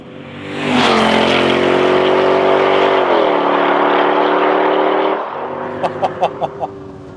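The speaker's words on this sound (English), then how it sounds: "It's glorious sounding V8, and in particular the M113 engine" A Mercedes-Benz SLK55 AMG's M113 V8 engine roars loudly as it revs up and holds high, then drops back to idle with a few short blips of the throttle.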